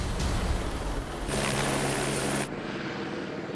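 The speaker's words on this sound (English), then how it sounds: "As the sound of the helicopter disappears" A helicopter's steady rotor and engine roar, loud and constant, then it abruptly drops in level as it recedes.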